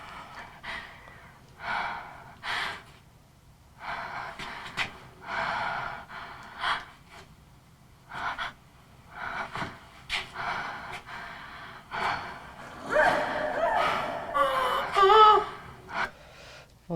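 Breathing sounds and foley from a film's sound mix: a series of gasps, sniffs and breaths recurring in short bursts, swelling into a denser, louder passage near the end, with no talk.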